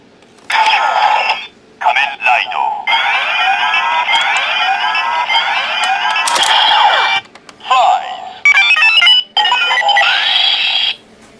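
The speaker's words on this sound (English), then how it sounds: "And that's the Faiz phone henshin sound." A Kamen Rider Decade Decadriver toy belt plays its electronic Faiz phone transformation effect: loud, bright, synthesized tones and sweeps in bursts broken by short gaps, with near-constant chiming and no audible talking.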